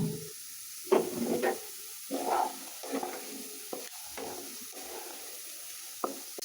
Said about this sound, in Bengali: আলু তো ভাজা নিলাম, একটু মশমশা করে ভাজছি